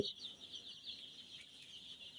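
Five-day-old Sonali chicks on a poultry and fish farm give off a steady, faint chorus of high, thin peeping that overlaps continuously, with no voices present.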